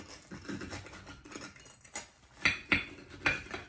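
A knife cutting into freshly grilled cheese sandwiches, with soft scraping and then three sharp taps against the plate or board, close and fairly quiet.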